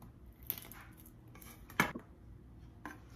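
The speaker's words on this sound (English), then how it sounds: "So I'm gonna go ahead and I'm gonna chop roughly 5 cloves of garlic." A knife chops roughly through about five peeled garlic cloves on a board for fire cider vinegar, giving a few sparse, sharp clicks and taps with one louder knock midway, quiet and close.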